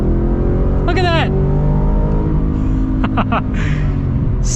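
A powerful supercharged V8 in a truck roars steadily as it accelerates hard, a deep continuous rumble with rising tones and brief shifts.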